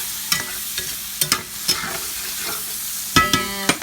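Mushrooms frying in butter in a pan, a soft steady sizzle close by, broken by several sharp scraping stirs of a utensil against the pan.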